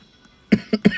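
A person nearby coughs three times in quick succession, sharp harsh bursts after a moment of near silence.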